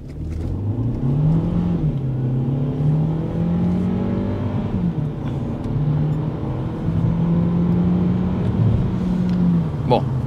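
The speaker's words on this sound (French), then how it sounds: "on se met en boîte sport DG7 et on va faire un petit test d'accélération" A 2024 VW T-Cross with the 150 hp engine and DG7 gearbox in sport mode pulls away hard from a standstill, its engine note climbing through several gear changes. The sound is steady and close, heard from inside the car, with people talking over it.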